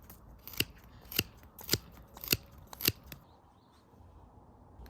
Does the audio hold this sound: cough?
no